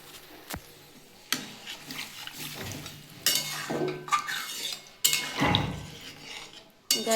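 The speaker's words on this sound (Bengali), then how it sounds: "গায়ে যেগুলো লেগে আছে একটু পরিষ্কার করে নিচ্ছি।" A spoon scraping the sides of a pot holding fish roe curry with potato and parwal, a series of intermittent metallic scrapes and clinks over soft simmering, close and moderately loud, with no talking.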